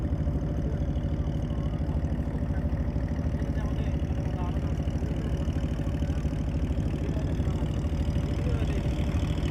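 A trawler boat's engine drones steadily as the boat nears the market at Subalong on the route from Rangamati. The close, continuous low rumble holds even throughout.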